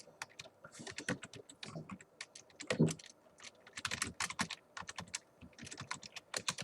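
Computer keyboard keys pressed in irregular quick bursts, close and crisp clicking with short pauses between runs of keystrokes.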